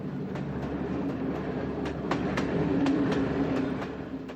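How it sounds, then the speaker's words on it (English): A train runs along the rails on the route to Budapest, with a steady low rumble, rhythmic clicks from the wheels on the rail joints and a faint tonal hum, heard from inside the carriage. "they're forced to take the black train to Budapest."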